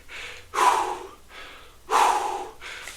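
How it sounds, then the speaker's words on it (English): Heavy, loud breaths come close to the microphone while resting after a set of big jumps in a mini band workout, two long rasping exhales with quieter inhales between them. "I'm breathing in and out. Taking in lots of oxygen."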